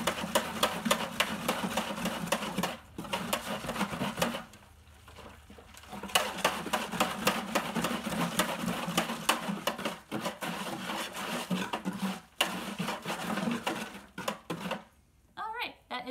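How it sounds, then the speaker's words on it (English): A hand whisk beats homemade laundry detergent in a bowl, giving fast continuous rhythmic clicking and tapping close by, with brief pauses. "so I'm using a hand whisk"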